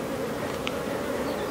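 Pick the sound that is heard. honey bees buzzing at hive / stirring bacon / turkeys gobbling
honey bees buzzing at hive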